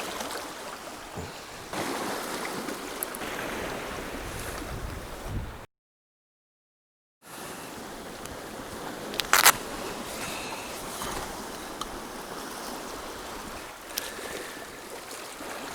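Sea waves wash steadily at Ballydowane beach, a continuous broad surf roar with wind buffeting the microphone, broken by a short silent gap midway.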